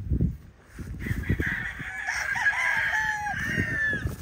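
Young stag roosters crow in a long, clear call that rises and holds before fading, up close with clucks and rustling around it and no talk.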